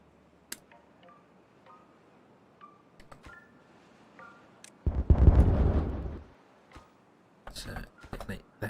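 A detonation in the game Timberborn goes off as a single loud, rumbling blast lasting over a second, set among sparse clicks and small interface blips, followed by a cluster of sharp pops and crackles.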